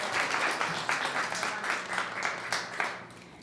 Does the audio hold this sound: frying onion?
no